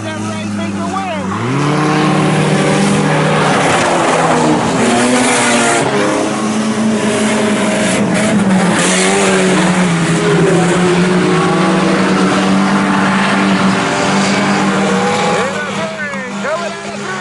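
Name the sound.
IMCA Sport Compact race cars racing at Salina Speedway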